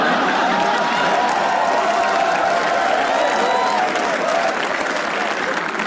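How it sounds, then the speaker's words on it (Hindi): A live comedy roast audience breaks into loud, sustained applause, with dense clapping filling the room and faint cheering mixed in throughout. "ताली बज रही है कामरा की."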